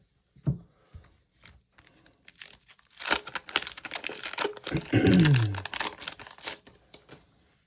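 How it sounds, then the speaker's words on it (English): A 1991 Fleer basketball card pack wrapper is torn open close up, with crinkling and ripping rising into a sustained loud crackle midway, preceded and followed by soft taps and rustles, with no voices. "Let's rip this open and have a little fun."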